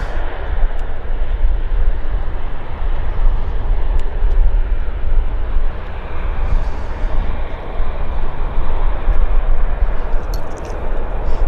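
A WestJet airliner lands at Vancouver airport with a loud, steady broadband jet roar that lasts throughout.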